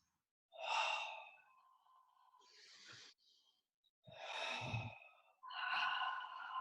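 Deep, slow abdominal breaths during a yoga exercise: a long audible exhale, a short inhale, then two more full breaths, close and soft against silence.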